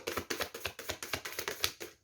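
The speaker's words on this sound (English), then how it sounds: "I'll shuffle the cards now." Tarot cards shuffled by hand give a quick run of papery taps and riffles in an even rhythm for about two seconds, close and fairly soft, ending in a brief silence.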